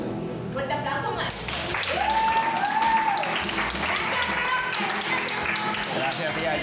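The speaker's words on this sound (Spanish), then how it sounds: "Fuerte aplauso, más." A children's group claps together at a pizzeria, a dense, steady patter of many small hands that swells slightly midway, with excited young voices and adult chatter mixed in.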